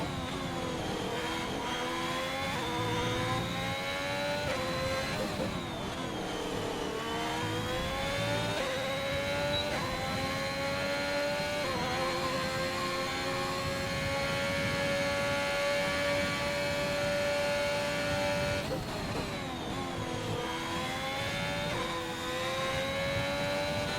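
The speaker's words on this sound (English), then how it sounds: "So the Ferrari of Edgar now coming around the final corner, trying to set a good lap." A Ferrari race car in a racing video game, Italy round, holds a steady high-pitched engine whine with gear shifts and slight pitch dips as it rounds a corner, loud and continuous with no voices.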